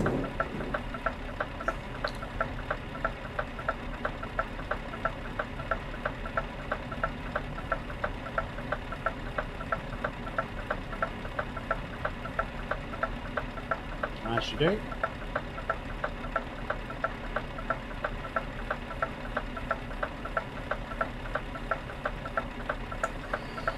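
A truck engine in Euro Truck Simulator 2 starts and settles into a steady idle, ticking in an even, rapid rhythm throughout, with a brief spoken remark over it.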